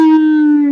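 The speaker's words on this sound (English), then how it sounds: "I need a little siren to set off." Synthetic siren sound effect played during a hockey card break stream, a single steady wailing tone with strong harmonics, loud and sustained, holding nearly level with a slight downward drift throughout.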